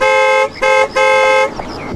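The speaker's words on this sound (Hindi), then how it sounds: "अरे हॉर्न मारो ना भाई" A car horn honks three times in quick succession, loud and close, the last blast longer before cutting off.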